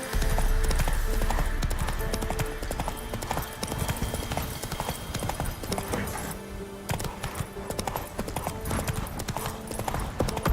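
Roach the horse trotting in The Witcher 3, steady rhythmic hoof clip-clops over a loud dense game soundscape, with occasional faint tack jingles throughout.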